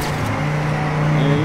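A race car engine in Trackmania 2 Canyon holds a steady, loud drone that builds slightly toward the end as it accelerates back onto the throttle.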